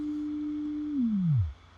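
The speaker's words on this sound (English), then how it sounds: "I'm going to take the output, my sine wave output of my LFO, and I'll patch it into my module." A sine wave from an LFO patched into a module in VCV Rack software, heard as a steady pure low tone that holds level for about a second, then glides smoothly downward in pitch and cuts off.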